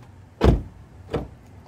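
A Nissan Rogue door with a freshly repaired handle thumps loudly twice in quick succession, a sharp close latch followed by a second softer clunk about half a second later, with no talk over it.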